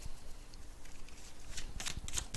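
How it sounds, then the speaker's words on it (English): Worn playing cards from a board game being shuffled, giving soft riffling and flapping bursts. They grow busier and louder toward the end, with no voices over them. "let's shuffle all this stuff as well"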